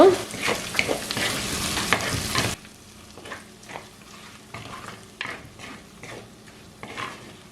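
Chicken heart poriyal being stirred in a pan, a loud sizzle with spatula scrapes that drops sharply once the heat is cut, leaving soft scraping and metal clinks against the pan.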